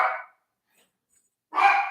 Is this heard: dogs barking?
yes